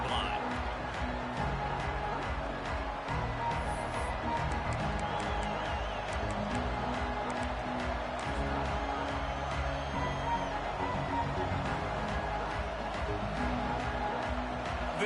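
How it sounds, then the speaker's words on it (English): Stadium crowd noise in a college football video game, Michigan versus Georgia, a dense distant roar with scattered cheers and claps held steady and fairly faint throughout. "This crowd ready to make its presence known."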